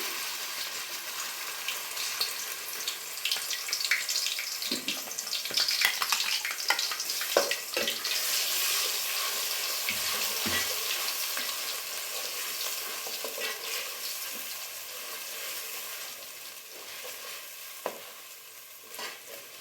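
Ground crab curry masala, made with byadgi chillies, fries steadily in hot oil, a continuous broadband sizzle with scraping stirring strokes throughout, close and fairly loud with no talk over it.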